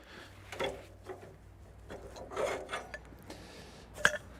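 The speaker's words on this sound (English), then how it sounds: "Now we'll remove the log clamps." Log clamps being released on a LOGOSOL B751PRO band sawmill, a few short scraping, rasping metal movements close by, ending in a sharp clank.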